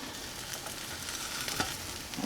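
An omelet frying in a pan over medium-low heat, giving a steady close sizzle with light scraping and stirring sounds as it is loosened from the pan, no talking.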